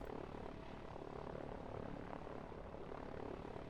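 Helicopter air units flying in the strategy video game Line War, heard as a faint, continuous rotor-and-engine drone, steady and distant with no talk over it.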